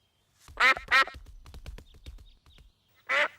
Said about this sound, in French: on dirait que les canards en veulent encore